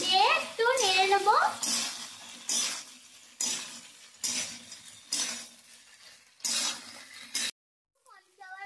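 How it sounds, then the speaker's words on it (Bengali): Fish pieces for chilli fish get stirred in a pan in repeated short bursts of scraping and clattering, with a gap of near silence toward the end and a faint sizzle underneath. "এখন দিয়ে দিচ্ছি মাছগুলো, দিয়ে একটু নেড়ে নেব।"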